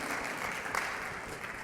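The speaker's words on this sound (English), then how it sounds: "can we just put out a round of applause to appreciate them?" An audience claps in a round of applause at a talk on LoRaWAN and edge computing, a faint, steady patter of many hands throughout.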